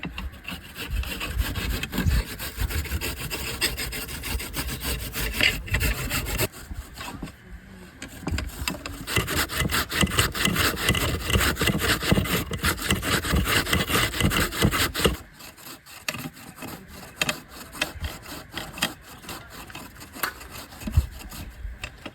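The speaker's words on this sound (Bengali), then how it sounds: "কাঁচা কলাটা মেশিন দিয়ে ভুজু ভুজু করে নেব।" A machine grates green banana in a long run of rapid, raspy scraping strokes. The sound is close and continuous, with a short pause partway through before the grating picks up again.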